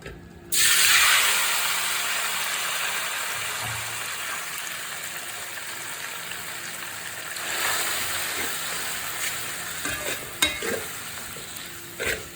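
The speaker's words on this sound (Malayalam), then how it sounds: "ഇനി നമുക്ക് ഈ നെയ്യിൽ തന്നെ നമുക്ക് അട ഇട്ട് കൊടുക്കാം" Rice ada for adapradhaman hits hot ghee and starts a loud, steady sizzle that hisses on continuously, with a few faint clicks of stirring near the end.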